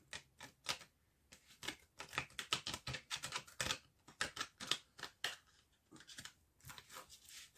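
Tarot cards shuffled by hand, giving quiet, rapid bursts of papery clicks and flutters in an uneven rhythm, close by with no talking.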